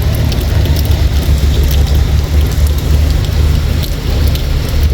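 Heavy rainy-season rain in Kanchanaburi pours down in a loud, steady wash of drops, with a low rumble beneath and no voices.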